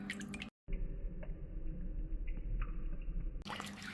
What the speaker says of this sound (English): That is moving a ton of water.